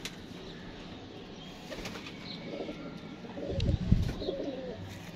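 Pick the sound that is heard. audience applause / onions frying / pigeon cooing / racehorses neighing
pigeon cooing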